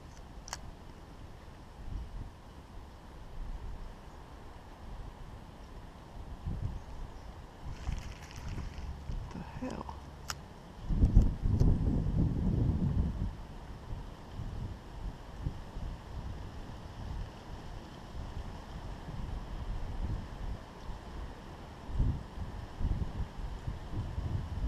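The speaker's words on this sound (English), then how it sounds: "It's hard because this damn wind." Wind gusts over a winter creek during crappie fishing, a low rushing buffet against the microphone that swells in the middle and keeps up under occasional talk.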